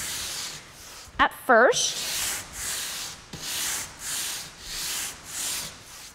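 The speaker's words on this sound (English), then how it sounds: "What we're going to do is take our sander and go with the grain that you painted" Electric sander lightly working painted wood along the grain: a rhythmic series of soft hissing sweeps, roughly one per second, moderately close, briefly interrupted by a short squeak and a woman's brief speech.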